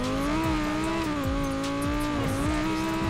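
A car launches from a standstill in Need for Speed Payback, running on automatic and lifting onto its rear wheels, its engine droning loud and steady with rising gear pulls and a faint tire squeal.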